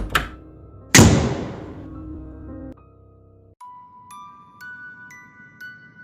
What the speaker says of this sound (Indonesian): Tak lupa, aku pun menutup pintu utama rumah.